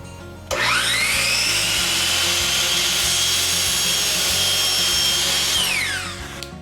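A power saw spins up, cuts through an MDF board for closet shelves in one steady loud whine that lasts about five seconds, then winds down.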